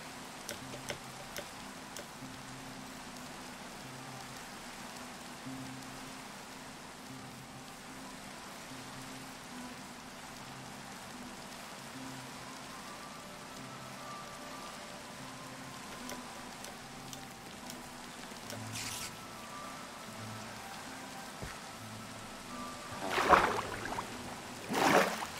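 Minecraft rain falls as a steady soft hiss across the scene, joined near the end by a few brief louder game sounds.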